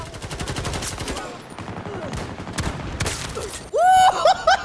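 Bursts of gunfire from the shooter game Battlefield 2042, rapid repeated shots in quick clusters with sharp impacts, ending in a louder ringing, metallic burst of effects.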